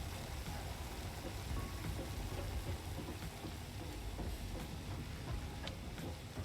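Rain falls in the factory-building video game Satisfactory as a soft, steady hiss of drops with a low rumbling bed, faint and unbroken throughout.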